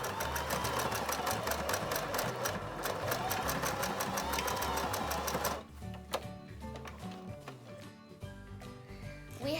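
Sewing machine stitching a zippered pencil case, a close, steady rapid clatter of the needle for several seconds before it stops, leaving softer handling clicks and rustles.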